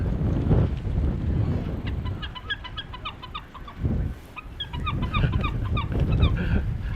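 Gulls call in bursts of sharp, repeated cries over a loud, rumbling background of wind and traffic in Provincetown, with two short pauses between bursts.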